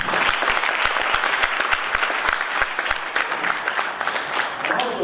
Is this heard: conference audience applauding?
yes